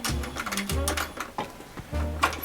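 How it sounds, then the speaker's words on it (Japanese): Older exposed-mechanism 18-class sewing machine in a bespoke shoemaker's workshop, running in short bursts with a low mechanical hum and clatter, stopping and starting several times. "このね18種ミシンもまだまだ全然活躍してくれてますね。"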